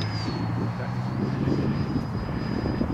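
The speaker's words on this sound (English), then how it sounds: "yeah, that was a little gnarly of a takeoff" Freewing RC model airplane taking off from rough grass, a steady droning engine with a rising whine held throughout, close and loud with no talk.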